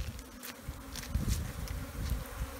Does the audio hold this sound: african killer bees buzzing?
yes